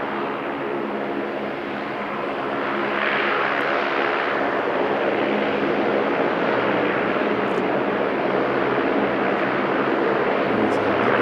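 A LATAM airliner heavily loaded with fuel for a Sydney to Santiago flight uses the long runway at Sydney, its jet roar building steadily into a broad, sustained rumble heard from a distance.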